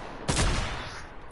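A single burst of video game gunfire from a Fortnite match, one sharp loud blast with a short rumbling tail, heard alone without talk.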